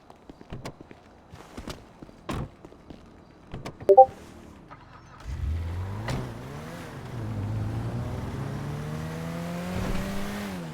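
A car in GTA pulls away after scattered footsteps and door thuds, its engine revving up through rising gear whines and settling into a steady, moderately loud drive.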